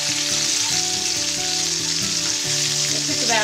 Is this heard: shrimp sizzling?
yes